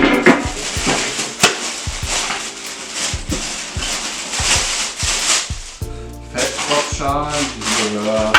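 Someone handles the lid of a Weber Q1000 gas grill, making sharp metallic clinks and knocks in an irregular series, close by, with someone speaking in between.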